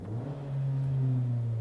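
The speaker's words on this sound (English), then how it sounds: "Let's give it some rev." A 2016 Fiat 500X's 2.4 engine revs up in park, a close low engine note rising and holding steady for a moment.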